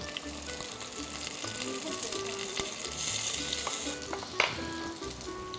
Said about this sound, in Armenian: Տակդեղները նույնպես պետք է մի քիչ այսպես տապակելու աստիճանի հասցնենք։